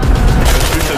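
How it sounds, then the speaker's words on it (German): Loud, dense gunfire from the video game Battlefield Hardline: rapid overlapping shots in a continuous barrage with no clear gaps between reports. "Das war ein Schuss!"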